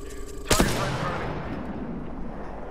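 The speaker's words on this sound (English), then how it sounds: "getting shot at" Gunfire in the video game Apex Legends: a single sharp, loud shot or burst near the start, then a decaying echo over a steady background wash.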